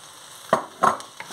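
Green onions and squash frying for shrimp chop suey are stirred in a hot pan, giving a soft steady sizzle broken by two or three quick scraping strokes, close and brief.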